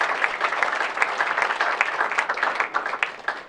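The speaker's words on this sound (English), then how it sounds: "I think that deserves another round of applause." A small crowd at a community pitch event applauds with steady, dense clapping that holds at an even level for a few seconds.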